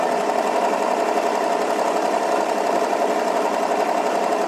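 Sewing machine running continuously for free motion embroidery with the tension set near zero, a loud, even mechanical drone that stays close and steady throughout.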